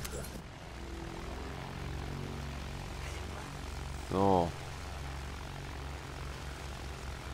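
Bomber aircraft engine in Battlefield 1 drones as a steady low propeller hum throughout, with a brief louder swell midway, under occasional talk.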